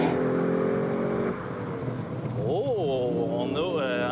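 A Lexus RC-F accelerates hard in Sport Plus mode, its engine note rising sharply in pitch with quick gear changes and swooping revs, loud and close, while someone talks over it.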